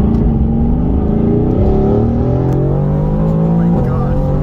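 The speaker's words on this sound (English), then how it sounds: "So let's get the exhaust note and let's get on the ride." Mercedes-AMG GT R V8 exhaust note, loud and close, a steady deep rumble with rising and falling revs across the clip, with no talk over it.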